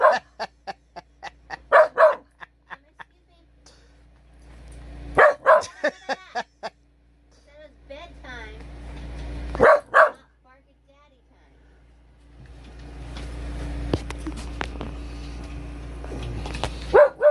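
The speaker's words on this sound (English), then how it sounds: "you're a bad dog." A dog barks repeatedly in sharp clusters of several barks, separated by quieter pauses with some whimpering, close by, with low background hum and rustling.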